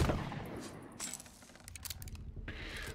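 Gunfire in the pirate video game Sea of Thieves, a few sharp cracking shots in quick bursts, heard faintly with quiet gaps between them.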